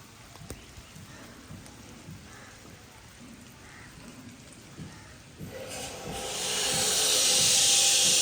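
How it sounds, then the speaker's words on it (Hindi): Heavy rain pouring during a wet day in Chattroh, Dadyal, Azad Kashmir; a low, soft patter that surges after a few seconds into a loud, dense, steady hiss of downpour. "बड़ी ज़्यादा तेज़ बारिश ना नज़ूल हाले तक जारी है"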